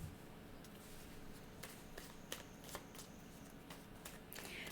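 Playing cards shuffled during a French tarot-style card reading, a steady soft riffling texture with a few sharper snaps, close and fairly quiet, with no talking.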